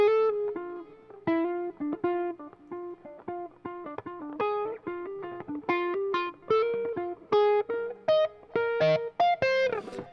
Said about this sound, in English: I still got that giant reverb on